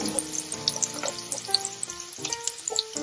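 Onions sizzle and crackle in a hot pan for a coq au vin base alongside garlic, with scraping and stirring clatters as everything is mixed together, close and fairly loud, no voices.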